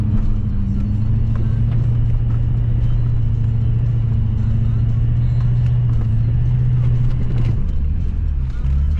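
A heavy truck on new tires plowing through snow without chains, its engine droning low and steady with tire and plow rumble, while people talk over it inside the cab.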